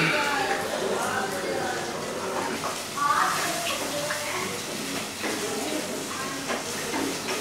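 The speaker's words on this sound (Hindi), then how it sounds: "तकरीबन 100 ml के करीब पानी डालेंगे इसमें।" About 100 ml of water hits a hot pan of homemade Schezwan sauce with chili paste and ginger, giving a steady steamy hiss and sizzle that carries on throughout.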